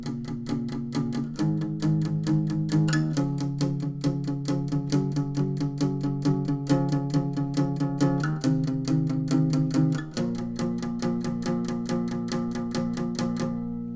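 Acoustic guitar plays the verse with steady, rapid palm-muted down strums, chords changing every couple of seconds, close and even with no talking.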